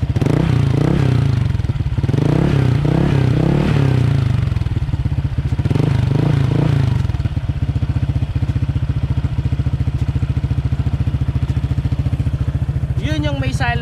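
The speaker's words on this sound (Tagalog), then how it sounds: "yung tunog niya, may silencer pa. Ayan. I-rev ko siya" Honda PCX scooter fitted with a Villain muffler and silencer, revved in several rising and falling bursts close by, then settling to a steady idle, with someone speaking briefly near the end.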